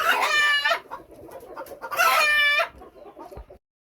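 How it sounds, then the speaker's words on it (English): An Onagadori rooster, the Japanese long-tailed chicken breed, crows loudly and close by in Japan. It gives two full crows about two seconds apart, each followed by quieter clucking and background noise. "So I wanted to show you guys an official Anagadori rooster."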